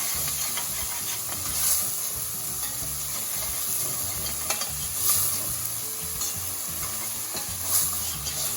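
Carrot frying in clarified butter at the bottom of a pot, a steady bright hiss with soft stirring scrapes and a few swells of sizzle throughout, close and continuous with no talk.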